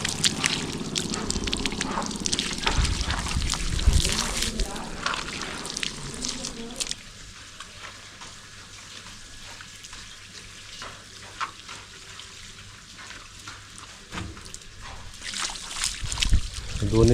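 A hose spray wetting both faces of new brick construction for curing gives a loud hiss and splatter for several seconds, then softer trickling and dripping, while someone speaks.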